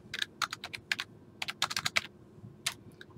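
Keystrokes on a computer keyboard tap out in quick, irregular clusters, close and fairly quiet against a faint background hum.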